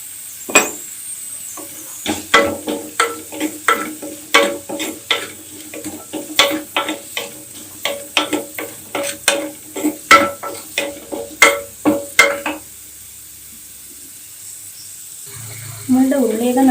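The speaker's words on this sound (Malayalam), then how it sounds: "ഉള്ളി നന്നായിട്ട് പെട്ടെന്ന് വഴണ്ടി കിട്ടും" Onions sautéing with salt in a pan, the spatula scraping and stirring in a quick run of repeated strokes over a soft sizzle, then quieter before another noise rises at the end.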